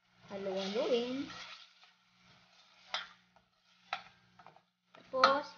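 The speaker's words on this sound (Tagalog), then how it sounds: "Halu-haluin." A spoon stirring lugaw rice porridge in a pot, a short scraping swirl followed by a few quieter scrapes and clinks, close and fairly soft.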